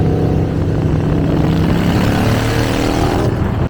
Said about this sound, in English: Kind of a weird feeling hearing my own bike riding next to me.